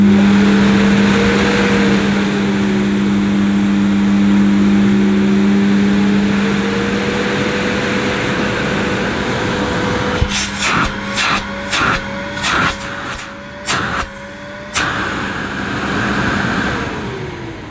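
A new Sebo Airbelt C2 vacuum cleaner motor runs with a loud steady hum and a wavering whine, then several sharp clunks and bumps break in near the end.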